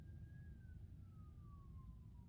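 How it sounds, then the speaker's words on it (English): An ambulance siren wails far off, its pitch slowly sliding downward over a low, steady rumble of background noise. "right now you can even hear the ambulance"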